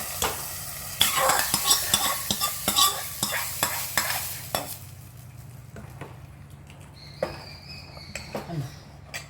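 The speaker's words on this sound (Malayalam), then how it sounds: "അപ്പോൾ നമ്മൾ കടുവ് വറുത്തിട്ടല്ലേ" Mustard seeds crackle and pop in hot oil for a Kerala mango curry, a dense burst of sharp sizzling that settles into quieter frying with occasional pops and a faint clink near the end.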